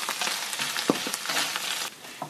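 Canned tuna frying and being stirred in a pan, a continuous close sizzle broken by scraping stirs and soft clicks of the utensil against the pan.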